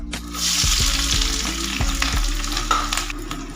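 Onion, garlic and green chili frying in hot oil, a loud close sizzle with scraping stirring strokes and a few low knocks from the spoon against the pan.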